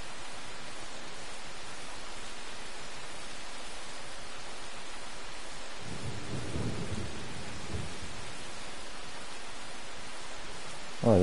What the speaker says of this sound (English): And now it's raining.